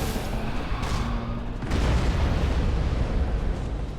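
A turret being destroyed in the space battle game Battlefleet Gothic Armada, a deep rumbling boom that swells into a sustained roaring explosion, loud and dense, with no speech.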